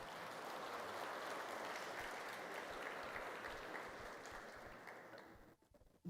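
Church congregation applauding: a dense, continuous wash of many hands clapping, heard faint and distant, holding steady before tapering off at the end.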